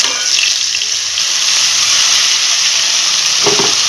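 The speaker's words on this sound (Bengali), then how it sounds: "এখন পেঁয়াজ আর রসুন বাটাটা আমি দিয়ে দেবো" Onion and garlic paste sizzling loudly in hot oil in a pan, a dense, steady frying hiss with a brief clatter of stirring toward the end.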